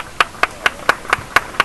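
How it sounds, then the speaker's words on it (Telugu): Rhythmic clapping at a school skit performance, seven evenly spaced sharp claps close to the microphone. "మీకు నచ్చినచో చప్పట్లు కొట్టండి."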